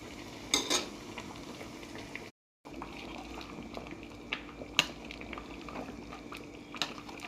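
Fish curry simmers in a pot while a ladle moves through it gently, giving a soft bubbling wash with occasional light metallic clinks and a short dropout partway through.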